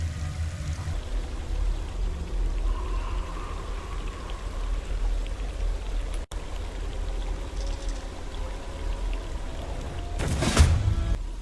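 Waterfall in the video game Baldur's Gate 3, a continuous rushing pour of water with a steady roar throughout and a louder splashing burst near the end.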